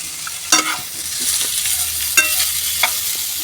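Mashed potato being stirred into peas in a pan for aloo matar vada, with a few distinct scraping strokes over a faint sizzle, no talking.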